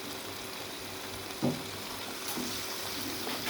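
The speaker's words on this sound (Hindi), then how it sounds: "अब हम इनको अच्छी तरह भूनेंगे।" Boiled potatoes and carrots fry in a pan for a dhaba-style mixed vegetable dish, giving a soft steady sizzle with a brief stir clatter partway through and faint scraping later.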